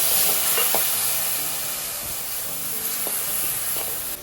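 Tamarind water poured into a pan of frying onions and prawns for a prawn theeyal curry, giving a steady, fairly loud hiss and sizzle that holds throughout.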